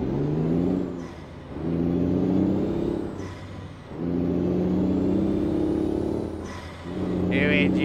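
A heavy truck engine in American Truck Simulator revs up repeatedly, rising in pitch with each acceleration, with short dips between gear shifts. Loud and close.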